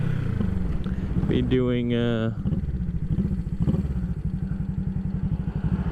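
A 1975 Honda CB360T motorcycle is ridden with a steady, close, pulsing engine drone while a rider talks over it.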